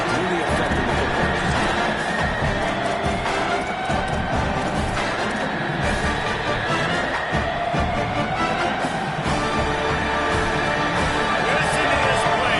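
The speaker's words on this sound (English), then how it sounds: "How nice is it to have the home crowd going absolutely bananas?" A large home football crowd roars and cheers continuously throughout a stadium, a dense, loud wash of voices with a commentator talking over it.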